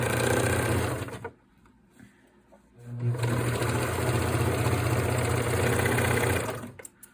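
A sewing machine stitches underwear lining in fast, buzzing bursts: a loud run, a pause of about two seconds with faint handling, then a longer steady run before it stops.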